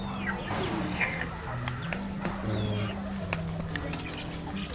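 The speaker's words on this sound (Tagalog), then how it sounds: "Ang dami kasing manok niyo dito, no?" Chickens cluck and chatter steadily around a Philippine farmyard, with bird calls scattered over a constant outdoor background and faint voices mixed in.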